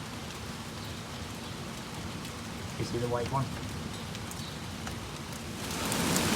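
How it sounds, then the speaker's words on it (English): Rain falls steadily during a thunderstorm as a dense, broad hiss of drops on surfaces, growing louder toward the end, while a person briefly speaks over it. "the rain is here"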